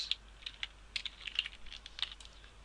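Rapid, irregular computer keyboard typing as code is entered during Unity game development, with quiet, close key clicks coming in short bursts.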